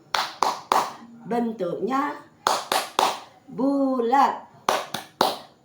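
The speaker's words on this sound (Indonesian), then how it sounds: "Yuk kita tepuk jeruk dulu ya." Rhythmic hand claps for the children's 'tepuk jeruk' orange clap game, sharp bursts in quick groups alternating with a woman's sung and spoken lines, close and loud in a classroom lesson.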